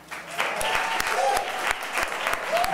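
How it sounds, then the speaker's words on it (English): Applause from an audience at a municipal political candidates' debate, moderate clapping with scattered sharp claps and a voice briefly audible over it. "The applause is strong with this one"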